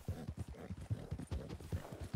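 Horse hooves clip-clop in a steady rhythmic gait in the video game Red Dead Redemption 2, soft and moderately close, with faint background ambience.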